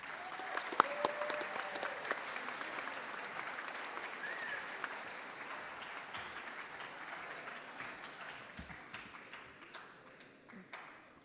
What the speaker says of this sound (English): Let's all give a round of applause